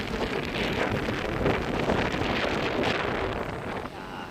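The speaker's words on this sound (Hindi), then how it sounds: "क्या भाई, इतनी तेज हवा है, बहुत ज्यादा वाली।" Strong wind blows hard across an Oman beach, a loud, steady roaring buffet on the microphone for several seconds with no clear talk.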